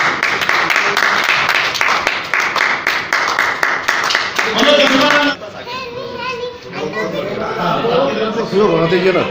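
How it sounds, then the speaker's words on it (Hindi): Crowd applause at an Od community gathering welcoming a land donor, brisk dense clapping for about five seconds that then gives way to chatter and children's voices. "बहुत बहुत ताली बजा के स्वागत अभिनंदन"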